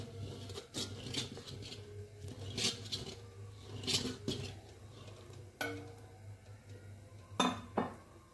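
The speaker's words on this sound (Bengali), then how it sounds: "এবার এর মধ্যে দিয়ে দেব তেজপাতা আর এলাচ, দিয়ে ভালো করে নাড়বো।" A spoon stirring boiling milk with bay leaf and cardamom in a pot, producing scattered metallic clinks and scrapes against the pot over a low steady bubbling, with no talk.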